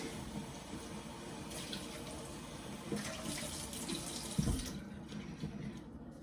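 Water runs steadily from a kitchen tap as a gutted Halloween pumpkin is rinsed out in the sink, a continuous broadband splash with a brief louder knock near the end.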